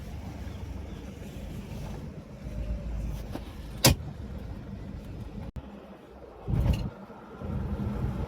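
A Nissan Patrol on a road test, heard as a steady low rumble of road and engine noise from inside the vehicle, with a sharp click and a couple of brief thumps partway through.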